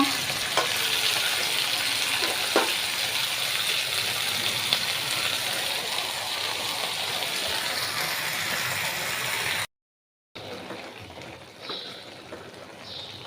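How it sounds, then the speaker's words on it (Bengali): Leafy greens (shak) frying in a pan and releasing a lot of water, a loud continuous sizzle with stirring clatters, a brief cut of silence, then quieter sizzling resumes. "পানিগুলো শুকাইয়া ভাজা ভাজা করে নিব"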